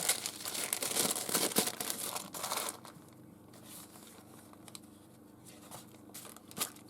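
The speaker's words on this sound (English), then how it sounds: "A little bit of wax paper." Wax paper being crinkled for a small book-covering craft project, loud close crumpling for about three seconds that then drops to a faint rustle with a last crackle.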